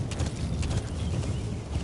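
Horse hooves clip-clop in a quick, steady galloping rhythm in the stealth action game Metal Gear V, close and continuous over a low ambient bed, with no voices.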